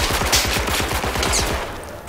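Rapid automatic gunfire from gun turrets in the VR shooter Zero Caliber, a steady, loud, close burst of repeated shots lasting about two seconds with no talking over it.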